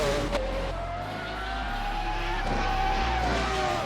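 Race cars scream around a track in a racing video game, with steady high engine whine, gear changes, tire squeal and a loud constant low roar throughout.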